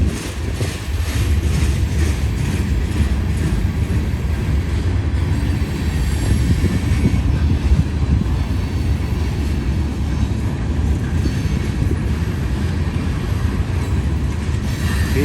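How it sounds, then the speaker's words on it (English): A freight train with TTX boxcars rolls past a railway crossing, a loud, steady rumble of wheels and cars close by, with occasional faint squeals. "One of those TTX boxcars, Chip."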